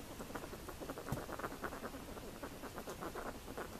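A pet rodent with a respiratory infection snuffles and patters close by, with soft repeated sniffing bursts and light rustling that continue steadily for a few seconds.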